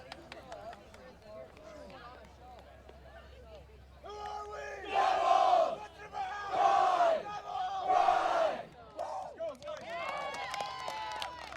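Spectators at a cross country race start cheer and shout in loud waves as runners head up a hill, with outdoor crowd noise and scattered voices between the bursts.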